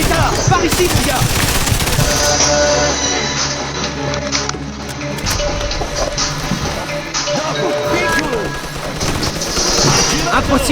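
Rapid bursts of machine gun fire in the video game Mafia 2, loud and close, with chattering rounds and crashing impacts over battle noise and shouted voices.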